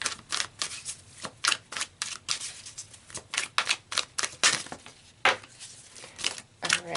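Tarot cards shuffled and flipped by hand, a rapid series of crisp papery riffles and slaps in uneven bursts, close and fairly loud with no talking.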